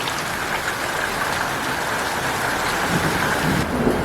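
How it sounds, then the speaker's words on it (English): Hail and heavy rain pound down outside during a thunderstorm with lightning, a dense, steady roaring hiss that fills the whole stretch, close and fairly loud, with no speech. "Still hailing over there. There's some massive big fault lightning out here."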